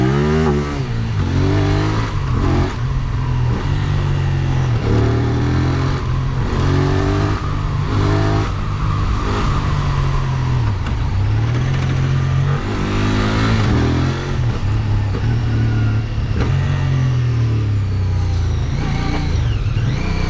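A QJmotor SRK 550 two-cylinder motorcycle with a 270-degree crank accelerates hard on a test ride, its engine revving loudly and continuously through rising and falling pitch sweeps, close and dominant with no talk.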